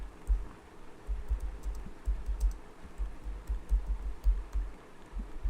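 Fast, irregular clacking on a computer keyboard as code is written, close and clear, with bursts of keystrokes and short pauses between words, alone without talk.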